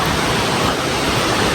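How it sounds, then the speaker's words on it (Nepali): Steady rain on a mountain trail in the Grand Canyon area, a dense, continuous hiss with no breaks, loud and close throughout. "रेन वाटर भइरह पानी परिरह"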